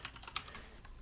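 Quiet, rapid keystrokes patter on a computer keyboard, a short run of soft clicks close by with no talking.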